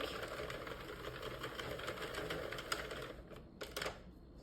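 A Sentro knitting machine is cranked by hand, giving a steady mechanical clatter of needles and gears that runs continuously and fairly close, with a few sharper clicks and a brief pause near the end.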